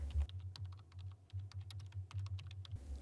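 Quiet, close keystrokes on a computer keyboard come in a quick irregular run of clicks over a low background hum, with no talking.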